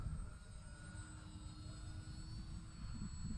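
An FMS Cessna Sky Trainer 182 model plane flies on its maiden flight, its electric motor giving a steady high-pitched whine at a distance under gusty wind noise.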